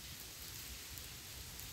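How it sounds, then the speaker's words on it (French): Heavy rain pours down steadily outdoors near an old stable used as a worksite, a dense, even hiss of drops with no voices. "Bon là il se met à trop pleuvoir"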